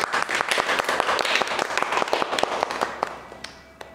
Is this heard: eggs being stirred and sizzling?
no